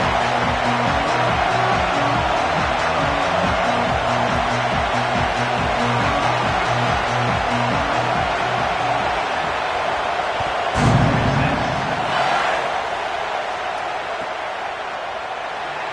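A Texas Longhorns home stadium crowd roars at kickoff of a Florida vs Texas football game, a loud, sustained wall of noise with a steady rhythmic band pulse beneath that cuts off near the end as the roar swells and fades.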